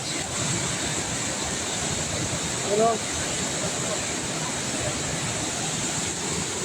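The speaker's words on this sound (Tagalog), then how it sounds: "lumalakas pa yung ulan, no?" Heavy rain and rushing floodwater make a constant broad roaring wash, with a brief faint vocal sound partway through.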